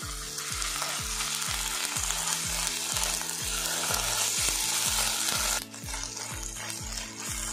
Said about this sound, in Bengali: আদা রসুন পেঁয়াজটা কিন্তু বেশ ভাজা ভাজা হয়ে গেছে।